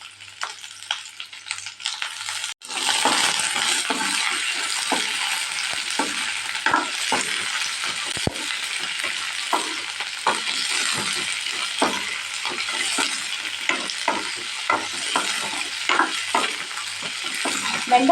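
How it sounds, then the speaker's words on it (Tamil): Cut okra dropped into hot oil for a buttermilk kuzhambu, giving a sudden onset of loud, steady sizzling frying that continues throughout with scattered crackles and stirring scrapes. "எண்ணெய் நல்லா சூடானதுக்கப்புறம் நம்ம வெட்டி வச்சுருக்கிற இந்த வெண்டைக்காவை அதில் போட்டுக்கலாங்க"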